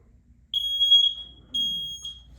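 A shrill electronic alarm sounds two long, loud beeps about a second apart, piercing and steady, with near silence around them.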